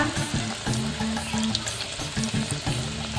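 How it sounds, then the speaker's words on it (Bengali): Chicken pakora frying in hot oil, a close, continuous sizzle with light crackle and occasional stirring taps, heard alone for a few seconds. "এখন বসে এখন চিকেন পকোড়া ভাজা।"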